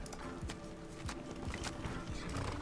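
A horse in a video game clops along with rapid, rhythmic hoofbeats over a busy layer of game sound effects and music, moderately loud and continuous.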